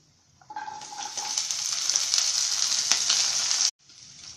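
Chopped adamant creeper (pirandai) hits hot sesame oil with toasted fenugreek and sizzles loudly and steadily for about three seconds, then cuts off abruptly, leaving faint background noise.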